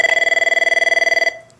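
An Avaya 9504/9508 digital desk phone rings with one loud, fast-trilling electronic burst lasting just over a second before cutting off, heard alone.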